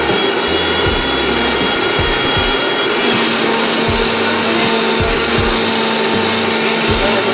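A mixer grinder whirs steadily as it grinds chutney into a fine paste, a loud continuous motor whine with rhythmic low thumps from the contents churning inside, running without a break.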